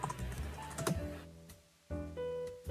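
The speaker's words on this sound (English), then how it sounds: "If you start typing your journal entry," Typing on a computer keyboard at close range, quick irregular key clicks in short bursts with a brief pause in the middle, quiet and without voices.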